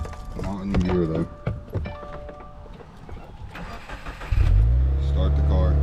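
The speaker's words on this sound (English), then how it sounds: "Start the car." A 2017 Subaru WRX engine cranks and catches near the end, settling into a steady, loud idle after some clicks and mechanical noises in a garage.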